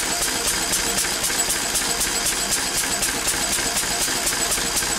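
A Lister diesel stationary engine hums steadily at about 500 rpm on a dynamometer, with a regular pulsing beat and constant mechanical rattle throughout.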